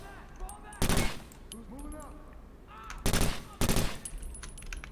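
Gunfire in the tactical shooter game Takedown: Red Sabre: two loud bursts of automatic fire, one near the start and a longer pair of volleys later, with a voice speaking faintly in between.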